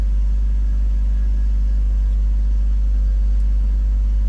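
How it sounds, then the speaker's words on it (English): BMW 323i engine idling steadily at raised revs after a cold start with a faulty airflow sensor, a low continuous rumble held close and even throughout. "The car is revving a little bit higher than it should"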